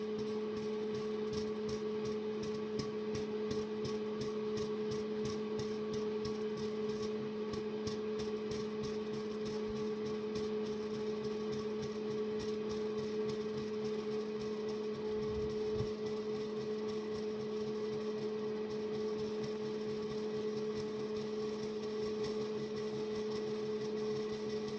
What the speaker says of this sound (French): le ventilateur qui fait beaucoup de bruit